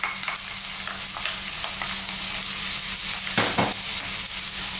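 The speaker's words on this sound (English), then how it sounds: "We're going to start off by dropping in those onions." Onions hit hot mustard seed oil in a pan for a prawn curry, giving a continuous close sizzle with a few scraping stirs and no speech.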